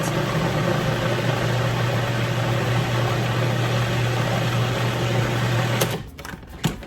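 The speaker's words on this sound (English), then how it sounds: "We're gonna whiz it again, and then we're going right back into the same pot." Broccoli and cheddar soup with added broth is pureed in a blender, a loud steady whirring motor drone that runs for about six seconds and then cuts off, followed by a few faint clatters.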